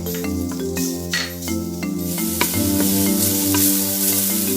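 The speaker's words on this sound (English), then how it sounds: "Once again, add some canola oil to the pot. Saute the minced garlic." Minced garlic sizzling in hot canola oil inside an Instant Pot, a bright continuous frying hiss that grows stronger, with occasional utensil scrapes and taps, close up and with no talking.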